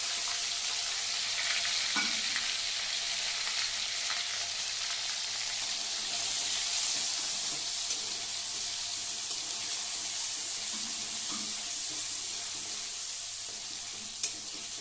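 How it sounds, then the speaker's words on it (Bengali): Ginger, green chili and cumin pastes with finely chopped onion fry in oil for a Bengali vegetable curry, a loud, steady hissing sizzle with occasional faint stirring knocks, close and unbroken with no voices. "আদা বাটা, কাঁচা লঙ্কা বাটা, জিরে বাটা আর পেঁয়াজ কিছু ফাইনলি চপ করে মানে কুচিয়ে এবার আমরা সেই তেলে ছেড়ে দিই"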